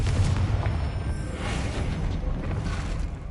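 A Confringo blasting spell detonates in a Harry Potter video game, a dense, booming explosion rumbling heavily at close range and holding for several seconds with no voices.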